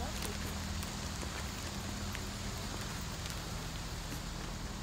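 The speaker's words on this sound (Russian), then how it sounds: "Дождь как шумит по крыше." Steady rain drums on a shelter roof by a river, a dense even patter filling the whole stretch with no clear pauses, close and continuous.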